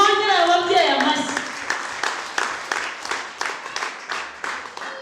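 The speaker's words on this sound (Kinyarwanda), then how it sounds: "Nimwongere ababyeyi amashyi." A voice speaks briefly, then a school ceremony audience breaks into applause for the parents; clapping settles into a loose rhythmic beat of many hands together, moderately loud and close.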